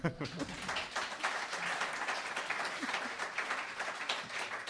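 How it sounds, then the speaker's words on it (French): A television studio audience applauds, steady moderately loud clapping with a voice or two briefly audible beneath it near the start. "Applaudissez Peggy Dagnoli."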